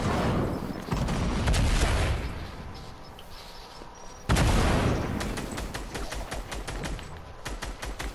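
Explosions boom twice in a multiplayer shooter match, each followed by rapid bursts of automatic gunfire crackling and rattling, loud and close, with the firing thinning out between the blasts.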